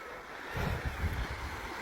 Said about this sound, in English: Now I'm going to the river that flows.